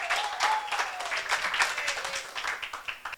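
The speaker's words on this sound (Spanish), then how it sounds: "Lo recibimos con un fuerte aplauso ellos también." Audience applause welcoming students from the Taparto educational institution at a creative industries forum, a dense patter of clapping with a faint tonal whistle running through it.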